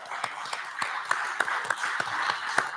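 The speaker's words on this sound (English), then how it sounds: "I think we need to give ourselves a round of applause" A crowd at a Rainbow PUSH Coalition gathering claps steadily, a moderate wash of applause with distinct louder hand claps recurring at a regular pace.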